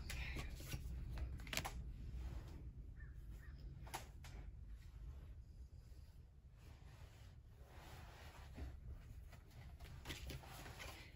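Tarot cards being shuffled by hand, a steady papery riffling and shuffling that runs close and continuous, with a few sharper flicks and taps near the start.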